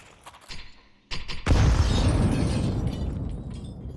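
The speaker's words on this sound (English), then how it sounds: "These nades do start to make Cryptic a little bit curious" Grenades burst during a professional Counter-Strike match on the Ancient map, opening with sharp clicks and pops, then one loud close blast that rolls into a long, slowly fading rumble.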